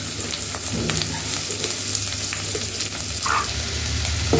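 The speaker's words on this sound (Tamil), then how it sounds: "வெங்காயம் வதங்கிடுச்சு." Sliced onion with ginger-garlic paste and green chillies frying in oil in a pan for tomato rice, giving a steady, dense sizzle throughout with faint stirring scrapes and no talk.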